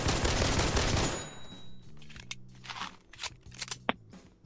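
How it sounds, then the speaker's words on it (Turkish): Gunfire from shooting zombies in a Roblox zombie tycoon game: a dense, loud burst of rapid automatic fire at first, then scattered single clicks and shots with game sounds, no talking. "oyunda her türlü silahla zombi öldürebilirim"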